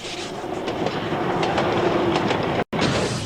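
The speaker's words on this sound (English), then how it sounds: "the loco, a 1/3 replica of a Garrett steam engine" A miniature steam locomotive, a one-third-scale replica of a Garratt steam engine, rumbles steadily along the track with a rhythmic clickety-clack of wheels, close by and continuous with no voices.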